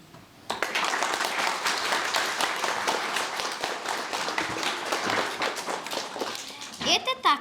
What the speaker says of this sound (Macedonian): благодариме за аплаузот